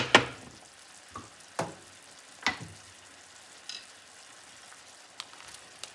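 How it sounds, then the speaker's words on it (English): Onion and red and yellow peppers go into a pan with cooking meat, giving a faint soft sizzle broken by a few sharp utensil clicks and clatters, with no voices. "Let's begin adding our vegetables that are going to be sauteing in the meat while it is"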